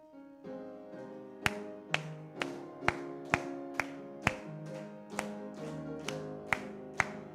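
A church congregation claps in steady unison along to a hymn sung like a marching song at a Wednesday service, about a dozen sharp evenly spaced claps over sustained singing and organ-like tones.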